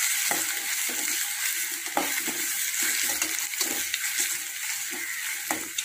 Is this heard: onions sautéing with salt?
yes